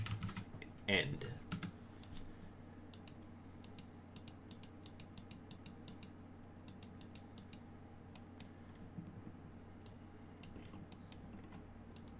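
Fast, light clicks of computer keyboard typing run in quick bursts across the clip over a quiet background hum, with a brief spoken word near the start.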